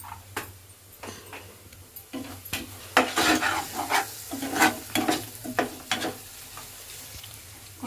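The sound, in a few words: tempering with asafoetida frying in a pan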